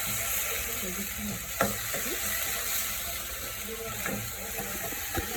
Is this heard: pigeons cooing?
no